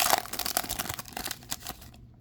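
Foil wrapper of a Bowman blaster baseball card pack torn open by hand, a close, brief burst of crinkling and ripping that thins out toward the end.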